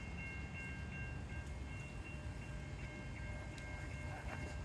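A train rumbles steadily through a railroad crossing close by, its wheels and cars producing a continuous loud roar with faint tonal bell-like ringing layered over the noise, with no speech.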